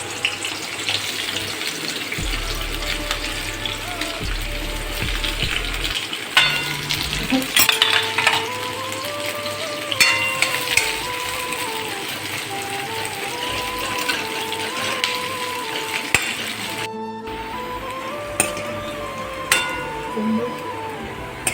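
Onion fries in hot oil with cumin and mustard seeds in a kadhai for soybean chilli, a continuous hiss and sizzle with clatters of stirring and a melody playing over it.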